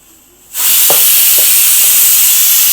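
A pressure cooker cooking mutton gravy bursts into a loud, continuous high-pitched whistle of escaping steam after half a second of quiet, then hisses steadily and close by until the end.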